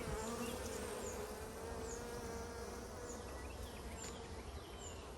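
Dense, steady buzzing of many honey bees in a hive close by, with higher individual buzzes flitting past over the constant hum.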